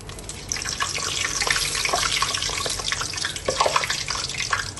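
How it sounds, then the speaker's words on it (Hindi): Fried dahi bara lentil fritters go into a bowl of water in a home kitchen, giving continuous splashing, sloshing and gurgling with small irregular plops, fairly close and with no talking. "अब इनको निकाल के हमने पानी में डाल देना है ताकि ये सॉफ्ट हो जाए।"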